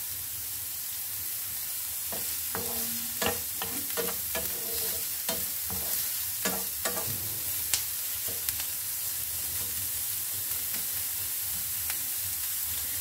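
Onion, ginger and garlic fry together on low heat in a pan while being stirred, giving a soft steady sizzle. Irregular clicks and scrapes of the stirring utensil sound throughout, with no talking.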